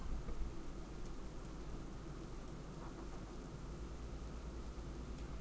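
Steady rain hisses in a video game world, with a low rumble of distant thunder underneath, a constant, moderately quiet wash of weather ambience without voices.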